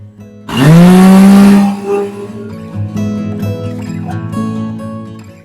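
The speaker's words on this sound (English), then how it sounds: "All right, we are gonna blend this up" A kitchen blender whirs up cookie dough ingredients for chocolate chip cookies: a loud motor kicks in, rising sharply in pitch, runs briefly at full roar, then cuts off and leaves a softer mechanical hum and rattle.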